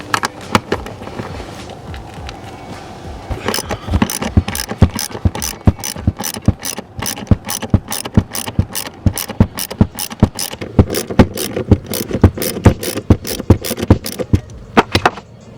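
A hand ratchet clicks in quick repeated strokes while removing the bolts of a car power seat, loud and close, starting softly and then settling into a steady rhythmic series of sharp clicking bursts.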